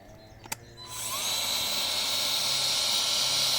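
An AL-KO battery-powered garden cultivator starts for the first time: a single click, then the electric motor spins up within a second into a steady, loud, high whirring hum that holds to the end.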